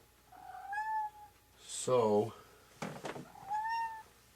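A house cat lets out several distinct meows, rising and falling, close by, with a person speaking briefly between the calls.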